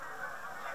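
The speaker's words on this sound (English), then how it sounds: "There's a lot of geese out there." Geese out on a lake, heard from a back deck: a faint, distant, sustained honking drone that sits low in the mix for under a second, with no talk over it.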